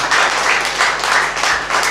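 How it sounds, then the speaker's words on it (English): Church congregation clapping in rhythm during a Sunday service, a loud, close, steady pulse of many hands with no voices over it. "Just clap unto Jesus wherever you are in the name of Jesus."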